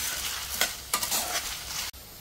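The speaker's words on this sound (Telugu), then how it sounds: "ఇవన్నీ చక్కగా మాడకుండా దోరగా గోల్డెన్ కలర్ లో వచ్చినట్టు వేయించుకోండి." Fenugreek seeds and black pepper dry-roasting in a pan for sambar powder, a dry rustling crackle with brisk stirring scrapes, ending in a sudden stop.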